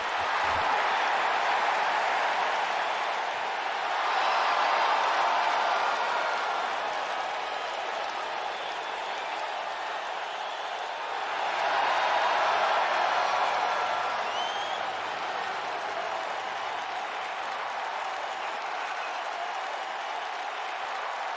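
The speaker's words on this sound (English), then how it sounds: "The crowd going wild for the Night King, CJ Royal." A wrestling arena crowd in WWE 2K19 cheers and applauds in a continuous loud roar that swells and recedes in waves, with no voices over it.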